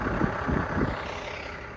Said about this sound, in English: So that's the big diesel truck behind me, and it has to idle its engine